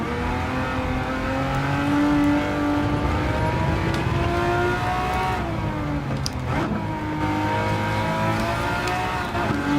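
A Ferrari Testarossa races in Gran Turismo 7, its engine note climbing and shifting through revs in a sustained, loud drone, with a brief shift or lift partway through and other cars audible around it.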